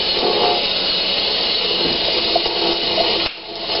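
Running tap water pouring steadily while a wig is washed, a constant close hiss that drops off abruptly near the end.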